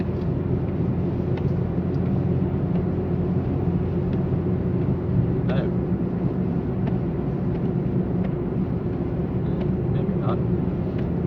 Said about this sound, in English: We're giving it a good amount of throttle to get back up to speed.